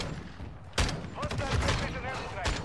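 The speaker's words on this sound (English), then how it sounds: "You are taking effective fire." Gunfire in Call of Duty DMZ, with several sharp shots and short bursts rattling at mid distance. Voices talk beneath and around the shots.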